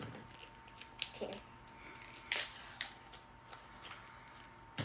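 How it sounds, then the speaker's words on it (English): Kid scissors cutting open a package of squishy dumpling toys, heard as a series of faint, close snips and small plastic crinkles spaced irregularly over a quiet background. "I'm going to use the scissors."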